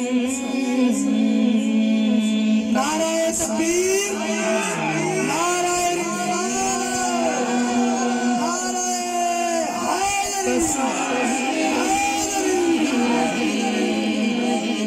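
A large crowd at a Muharram gathering roars back in unison to a takbeer chant, sustained loud voices shouting and sliding in pitch together for the whole stretch.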